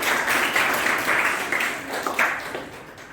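Loud, sustained clapping from a school audience at a quiz competition, many hands together with a steady texture that eases slightly toward the end.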